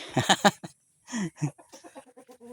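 Chickens cluck nearby in quick bursts inside a poultry house, a cluster of sharp clucks followed by a run of softer, rhythmic clucking calls.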